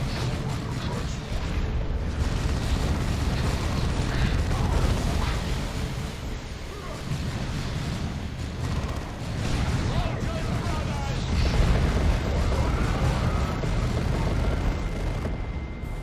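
Chaos units blow up in Dawn of War II, a continuous run of heavy blasts and rumbling bursts over battle noise for about sixteen seconds, with two dips in between.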